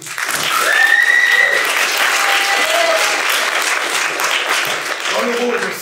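A theatre audience applauds steadily during curtain-call cast introductions for a play, dense clapping with a few voices calling out briefly near the start.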